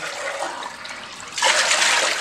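Water poured into a cooking pot for carrot kheer gives a gurgling, splashing stream close by that grows noticeably louder and fuller partway through, with no talking.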